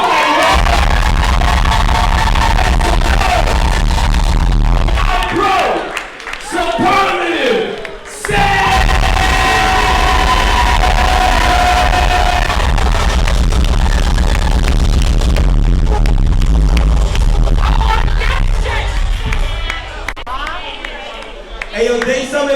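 A concert crowd at S.O.B.'s in New York roars and yells for the next artist over thumping bass music, loud and continuous with a brief dip midway and a voice shouting over the noise.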